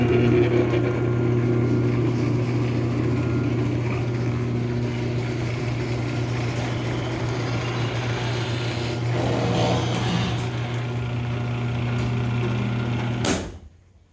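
A Chamberlain garage door opener motor drones steadily and close for a long stretch, then cuts off with a sharp knock as the door travels too far and slams into a stop. Silence follows.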